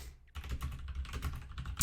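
Rapid clicking of keys on a computer keyboard, close and fairly loud, in a steady stream of typing after a short silent moment, with no voices.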